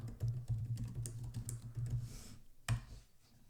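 Typing on a computer keyboard while entering data into a spreadsheet column, a steady run of close, fairly loud key clicks that stops briefly, then one last firm keystroke and quiet.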